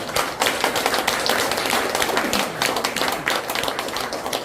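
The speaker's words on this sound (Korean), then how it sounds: "우리 박수 한번 드립니다" Dense, steady clapping from a crowd at an award presentation fills the space, loud and continuous with a busy, rattling texture throughout.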